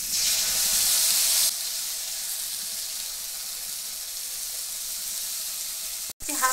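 A paste of ground ginger, cumin and dried red chilli hits hot oil in a pan with tomato, giving a loud bright sizzle that drops to a steady softer hiss, ending with a brief clatter.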